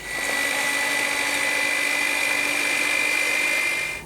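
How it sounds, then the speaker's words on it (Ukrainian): An electric mixer whirs steadily while beating two eggs with sugar for a honey cake batter, a continuous loud high-pitched motor drone with no pauses. "Буду поступово їх збивати з цукром."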